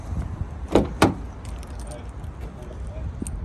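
The pair of keys for a 2017 Toyota RAV4 GX AWD wagon jangle close by, with two loud metallic clinks early and then lighter, scattered rattles, over faint background noise and a possible voice.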